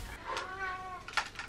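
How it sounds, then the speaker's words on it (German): A hairless cat gives a short, fairly close meow of rising and falling pitch, followed by a brief second sound, over quiet room tone. "Das ist ja eine Katze."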